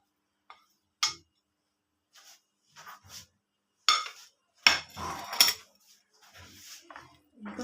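Sliced apple and banana stirred in a bowl with a utensil, giving scattered clinks and soft knocks against the dish between pauses, with a voice speaking in parts.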